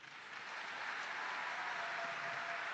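An audience at a national solidarity campaign launch event breaks into applause, a continuous even wash of clapping that swells slightly at the start and then holds steady.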